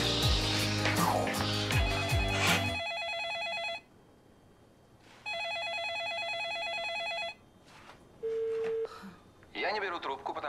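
A telephone rings in repeated electronic bursts of about two seconds with gaps between them, loud and close, and a voice is heard briefly at the start and end.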